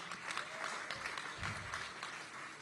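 A crowd claps at a Kamala Harris political speech event, a sustained wash of many hands with some sharper individual claps standing out, steady and moderately loud throughout.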